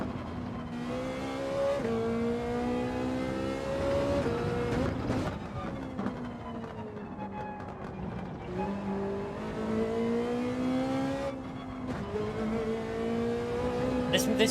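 A Ferrari race car in the video game Gran Turismo 7, its engine droning loud and close and climbing in pitch through repeated gear changes, with occasional revving surges and no talk over it.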